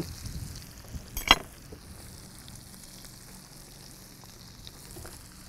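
Garlic sizzles softly in a small pan, a quiet steady frying hiss with one brief clink of a utensil early on.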